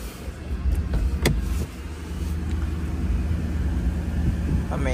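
A 2016 Porsche Panamera Turbo S sits idling, its engine a steady low rumble close by, with a few brief clicks and a rising whoosh near the end.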